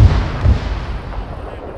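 Tank cannon firing a shell in a World War II game set around Operation Market Garden, two heavy booming blasts in quick succession followed by a rumbling decay, loud and close.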